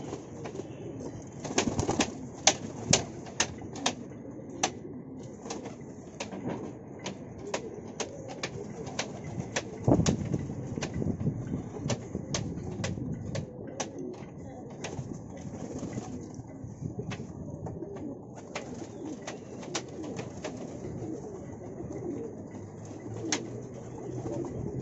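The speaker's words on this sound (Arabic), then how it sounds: "الحمام بيفتح له بينزل يشرب من المسائل اللي في الارض" Pigeons coo steadily inside a tall pigeon loft in a coastal Egyptian village, with soft flutters and scattered sharp clicks and knocks over a continuous low murmuring of many birds.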